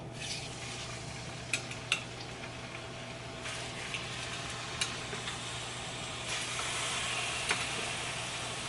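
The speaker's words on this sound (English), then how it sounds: "We're still on a medium heat, and then we're gonna go in with the pork chops" Pork chops browning in a pan over medium heat give a steady, soft sizzle and frying hiss, with a few faint clicks and taps from the pan scattered over it.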